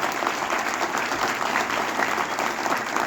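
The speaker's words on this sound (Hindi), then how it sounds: "मैं चाहूँगा जोरदार तालियां हो जाएं।" An audience at a ceremony closing traffic month, where school children are honored, breaks into sustained applause, an even, dense wash of clapping from many hands that continues at steady volume.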